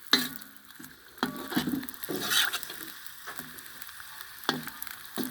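Young potatoes fry in oil in a pan over an open fire, crackling and sizzling with intermittent stirring scrapes and clinks.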